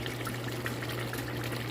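Okra stew frying in oil in a pot, a steady soft sizzle and crackle with a low constant hum underneath, close and even throughout with no talking.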